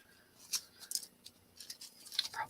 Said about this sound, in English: Or at least small scissors.